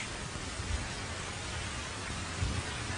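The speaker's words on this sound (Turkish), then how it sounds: "Sonunda yağmur yağmaya başlıyor su birikintileri ve gölcükler oluşmaya başlıyor." Steady broadband hiss of rain beginning to fall, forming puddles and small pools, a soft continuous wash with a few faint low thumps, no voices.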